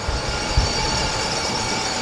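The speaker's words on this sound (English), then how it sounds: "Gonna have some noise from the paint booth over here." Steady broadband roar from a spray paint booth in a guitar-making workshop, a constant hiss and rumble filling the space with a faint thump near the middle and nobody speaking.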